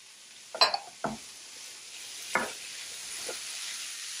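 Cauliflower and green peas cook in a pan, giving a steady low sizzle with a few louder scrapes and clatters of stirring spread across a few seconds, and no one speaking.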